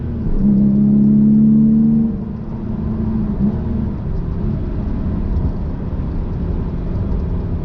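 A Porsche 993 with an upgraded Fabspeed and Borla exhaust gives a throaty, low engine drone while driving. A steady tone swells briefly near the start, then settles into a continuous rumble with road noise.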